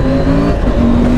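A KTM 890 Adventure R motorcycle engine pulls hard through the gears, a loud, steady, close drone with tonal whine shifting slightly mid-run, no voices over it.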